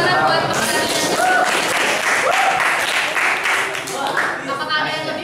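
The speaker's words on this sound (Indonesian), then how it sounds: "Tepuk tangan buat pemenangnya." A classroom group applauds the winner of a learning activity, close, busy clapping with voices and cheers mixed in, tapering off near the end.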